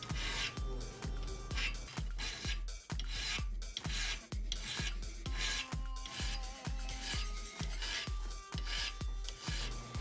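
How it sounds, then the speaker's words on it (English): A metal file rasps across the bevel of a knife forged from rebar steel, in a steady series of close, quiet strokes, about two per second, with no talk. "I used a metal file and a little belt grinder"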